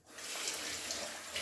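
Rice is washed off hands under a running kitchen tap, a brief, steady rush of splashing water heard close up with no voices.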